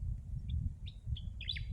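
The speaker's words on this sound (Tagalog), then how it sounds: "Makikinig ka sa paligid nang wala kang sounds na ibang mula sa digital world, kundi dito lang sa natural. Mga ibon" Outdoors at a bike-packing campsite, a few small birds give short, faint chirps over a soft low rumble of background noise.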